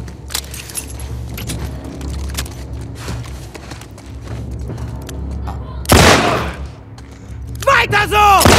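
Gunfire in The Last of Us Part II: a loud, sharp shot bursts out near the end, followed by a second crack with ringing metallic tails, over a busy bed of game noise and some speech.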